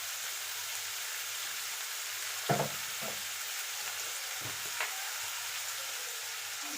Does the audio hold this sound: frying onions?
yes